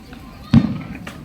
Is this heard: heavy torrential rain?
no